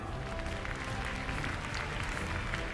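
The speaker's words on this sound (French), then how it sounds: "il s'appelle Akamas de Champlève, c'est un poney Welsh, on applaudit" Spectators at the Salon de l'Agriculture applaud a Welsh pony, a dense and sustained round of clapping from a crowd in a large hall, continuous and fairly loud throughout with no voices on top.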